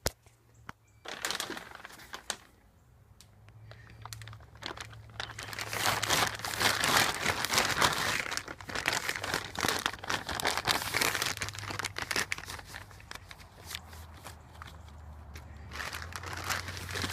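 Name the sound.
unwrapping a new rear strut bar from its package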